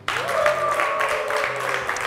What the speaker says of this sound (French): applaudissez pour voir